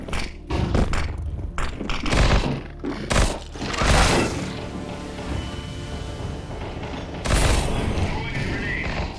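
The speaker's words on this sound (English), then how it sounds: "Deploying flashbang." A flashbang grenade going off in a video game amid a chaotic run of loud booming bursts and heavy thuds, close and forceful, with a sustained ringing wash afterward.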